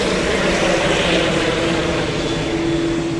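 A Boeing 787 Dreamliner passes at Dublin Airport, a steady loud jet roar with a sustained engine hum, heard alone without talk.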